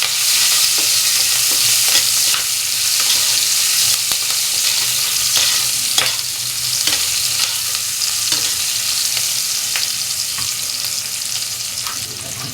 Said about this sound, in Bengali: আর একটা দেবো তেজপাতা। 1 মিনিট ভেজে নেব।